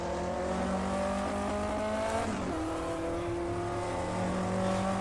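A 1958 Formula 1 car in Automobilista brakes into a corner at Silverstone. Its steady, loud engine drone briefly dips and shifts pitch, then settles into a sustained buzzing tone.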